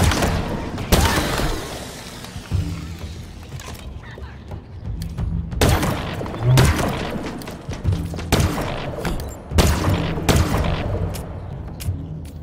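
Gunfire and explosions in the first-person shooter Halo Infinite during a boss fight: repeated bursts of shots and booming impacts over layered mechanical noise and game sound effects, loud and dense throughout.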